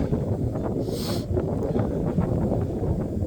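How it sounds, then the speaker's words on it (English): Wind gusting outdoors on a farm, a continuous loud rumbling buffet that batters the microphone, with a brief rustle partway through. "That wind hit me a little harder than I thought it would."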